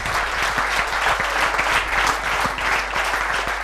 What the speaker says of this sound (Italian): Allora, che applauso, eh?